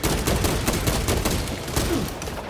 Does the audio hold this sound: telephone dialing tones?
no